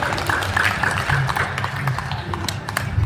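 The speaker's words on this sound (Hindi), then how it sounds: "एक बार सर की सम्मान में जोरदार तालियां बजाइए।" An audience at a Hindi comedy poetry event at a Kota stage claps for a poet, a dense, moderately loud patter of applause mixed with murmuring voices.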